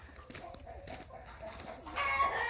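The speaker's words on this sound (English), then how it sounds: "I have probably 50 some odd chickens" Flock of roughly fifty backyard hens clucking and crowing near and far around a barn yard, a steady chatter of calls that swells louder toward the end.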